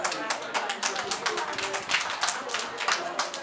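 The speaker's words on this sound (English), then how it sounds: "A round of applause for him, please" A crowd at a school event claps steadily for a few seconds, a dense run of hand claps at close range with no pauses.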